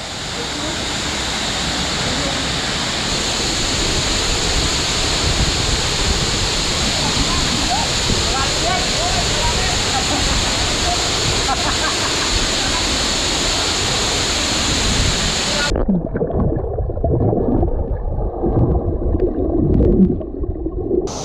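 Water pours steadily down Patal Falls in Subic, Zambales, a loud, continuous rushing roar that fills the scene for its whole length, with the sound changing character near the end.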